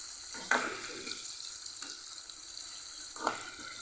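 Dried fish frying in a pan for a cucumber curry gives a steady, close sizzle, broken by a few soft scrapes from stirring and no talking.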